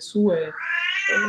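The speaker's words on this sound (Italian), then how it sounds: "scusate il gatto è un po' intemperante" A house cat meowing close by, one drawn-out, wavering meow that rises and falls over about a second, loud and clear with no talk over it.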